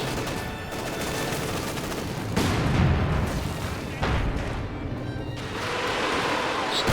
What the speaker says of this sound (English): adding in a lot of artillery again. They're basically bombarding this narrow strip of land.